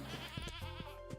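A goat in the farming game Stardew Valley bleats, a wavering, quavering call lasting about a second, faint and heard alone.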